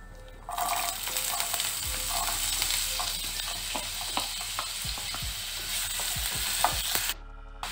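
Chopped potato fries in a pan with ginger for a sago pulao, giving a steady close sizzle while a utensil stirs and scrapes it in repeated strokes.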